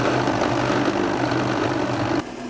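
A blender grinds garlic, salt, pepper, basil and water into a sauce, a loud steady motor whine and churning roar that runs continuously, then drops off abruptly near the end.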